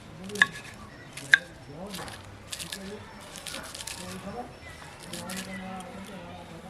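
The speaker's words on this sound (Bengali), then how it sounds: "পালং শাকগুলো কেটে নেব ছোট ছোট টুকরো করে কেটে নেব" A knife chops spinach into small pieces on a board, giving two sharp cuts followed by softer, irregular chopping taps, close and clear, with someone speaking throughout.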